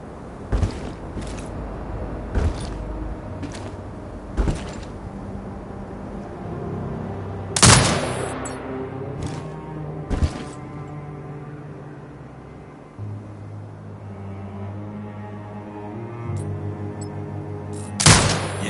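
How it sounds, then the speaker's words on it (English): A turret in Sniper Ghost Warrior Contracts 2 fires sharp, spaced single shots, about eight booming reports with short echoing tails, separated by quieter ambient hum and background tones. "Exit binocular mode and command the turret to fire."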